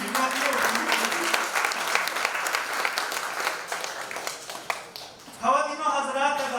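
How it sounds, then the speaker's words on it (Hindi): Audience applause at the Udaan Idol Little Champs 2018-19 grand finale in Mumbai: a dense, steady roar of many clapping hands that fades near the end, where a voice takes over. "एक बार थोड़ा सा तालियां बजा दो, मेरा कॉन्फिडेंस लो हो रहा है।"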